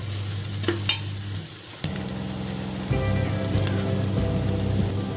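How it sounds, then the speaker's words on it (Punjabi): Green chillies fry in a tadka in a pan for a Punjabi-style matar dish, giving a steady sizzle and crackle. The frying grows denser and louder partway through, with occasional stirring clatters and a low background hum. "ਤੁਸੀਂ ਦੇਖ ਸਕਦੇ ਹੋ ਸਾਡਾ ਤੜਕਾ ਜਿਹੜਾ ਹੈ ਜੀ ਅੱਧਾ ਭੁੰਨ ਹੋ ਗਿਆ ਜੀ"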